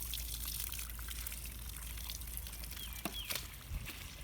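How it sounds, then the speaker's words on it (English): Water runs steadily from a tap or hose during a rescue dog's bath, a soft continuous trickle and pour with faint splashing near the end, quiet and without voices. "Water's going here, it's making some noise."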